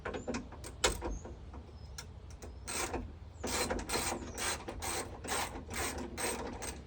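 A ratchet loosening the hood bolts on a Ford Fusion gives rapid close clicking bursts in quick repeated runs with short pauses between them, and no speech.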